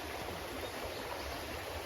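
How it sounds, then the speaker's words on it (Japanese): Small stream flowing beside a creek bank, a steady soft rushing and gurgling of water heard close and continuous with no voices. "今日は焚き火をする気力がないので、小川のほとりでお弁当ランチです。"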